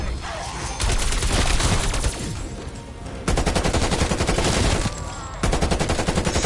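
A PPSh submachine gun firing in Call of Duty zombies (Outbreak) sounds as loud, sustained bursts of rapid automatic fire that stop and restart in long strings.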